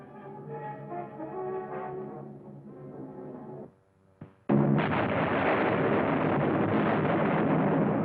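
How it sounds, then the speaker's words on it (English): Bombing raid explosions from an old wartime documentary soundtrack. Orchestral music plays first, then cuts to near silence before a sudden loud, sustained rumbling roar of blasts. "Unopposed bombing raids sent defenseless civilians fleeing in stark terror."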